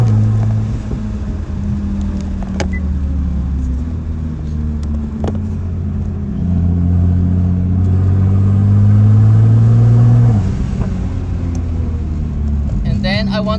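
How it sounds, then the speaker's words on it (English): A Nissan GT-R R35 engine, with a fuel pump fault under repair, rumbles at a steady idle and then rises as the gas pedal is pressed, holding a louder, higher rev before easing back down. It is close and continuous. "So I'm gonna start press the gas."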